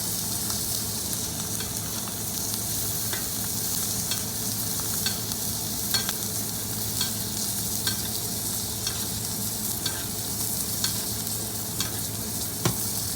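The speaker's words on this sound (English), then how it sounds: "Then I'm going to go ahead and do one more sear on this side" A ribeye steak sears in a hot pan with a loud, continuous close-up sizzle and crackle, dotted with small regular pops and spatters, no voices.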